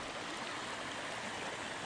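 Creek water flows in a steady, even rush that fills the moment, a soft continuous burble with no voices.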